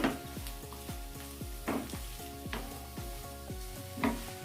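Potato pieces fry in a pan with a constant moderate sizzle, and a spoon stirs them in repeated scraping strokes that rise a little louder now and then.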